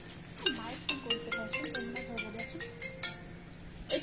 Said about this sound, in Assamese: মাইক ফোন কৰিছে